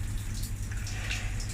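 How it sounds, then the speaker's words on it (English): Water leaking from a water heater, a steady soft trickle and patter with faint drips over a low hum. "there's water leaking here out"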